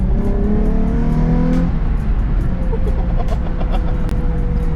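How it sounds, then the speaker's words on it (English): A Nissan 350Z accelerates hard in second gear, its loud engine note climbing in pitch close to the microphone, then settling into a dense, steady roar. "Let's get a little second gear rip though"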